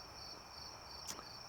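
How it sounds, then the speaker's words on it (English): Steady high-pitched cricket chirping fills the background, a continuous trilling drone with a brief faint click near the end. "listen to the crickets"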